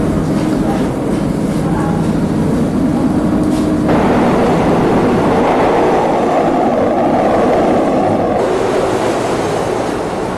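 A downtown number 2 express train on the New York subway rumbles loudly and steadily, a dense roar of wheels and rattling cars with shifting tones throughout, no voices heard.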